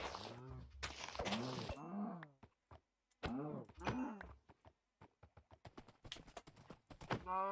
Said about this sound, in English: That's not a bad speed horse